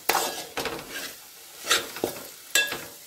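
Besan flour roasting in oil with capsicum is stirred in a pan, a series of sharp scraping strokes about every half second over a faint sizzle, close and with no talking.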